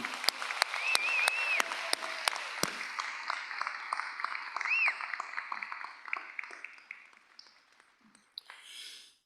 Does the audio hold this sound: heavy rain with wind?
no